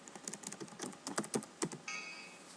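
Typing a name on a computer keyboard: a short, quiet run of irregular key clicks and taps, heard close and alone with no talking.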